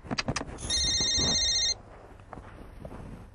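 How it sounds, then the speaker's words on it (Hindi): A mobile phone ringtone in a domestic comedy scene, a steady electronic ring lasting about a second after some bumps and footsteps, then cutting off to quiet room noise. "ओह मेरा फोन बज रहा है"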